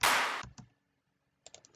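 A basic clap sample used for EDM drums: one sharp, bright burst that decays quickly, followed after a pause by a few softer, short clicky hits.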